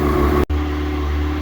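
A swapped Yamaha Apex engine in a snowmobile runs at a loud, steady idle with a constant low hum, broken by a brief dropout.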